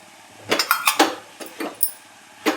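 Cowpea pods cooking with crushed peanuts and coriander, stirred in a pan with a metal spoon: bursts of close, loud scraping and clinking against the pan with short pauses between.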